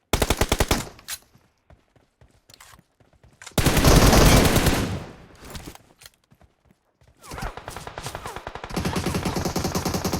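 Video game gunfire comes in rapid, loud automatic bursts with short gaps between them. One longer stretch of heavy firing sits in the middle, and a sustained volley closes the passage.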